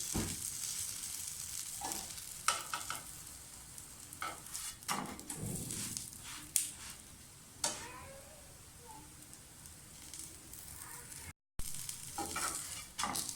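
A wheat pancake with eggs fries in a little ghee, giving a steady soft sizzle close by, broken by occasional sharp clinks and scrapes of a utensil against the pan and one brief dropout.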